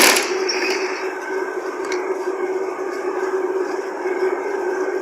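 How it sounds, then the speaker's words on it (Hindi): A sewing machine runs steadily while stitching two plain fabric strips laid straight together for a neckline, producing a continuous close mechanical whir with no speech. "हमने इनको बिल्कुल सीध में रख के सिलाई लगा लेनी है।"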